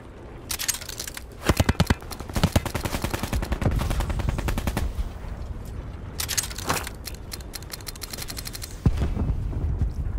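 Gunfire in Call of Duty: Black Ops 4 Blackout, with bursts of rapid automatic shots and single cracks, loud and close, scattered over steady in-game background noise.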